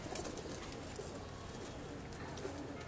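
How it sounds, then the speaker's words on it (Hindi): Pigeons at a breeder's loft give soft, low cooing in a steady, continuous murmur with faint chirps throughout, heard at moderate loudness with no clear talk over it. "ये हाजी शाह साहब के जी कबूतर हैं जी ब्रीडर माशाल्लाह सारे"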